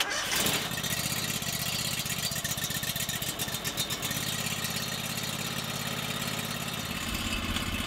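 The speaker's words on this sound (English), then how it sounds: "So Honda engine with an electric start." Honda engine with electric start cranking and firing up on a sawmill, a short starter burst then a steady, loud mid-pitched running drone that continues close by without talk.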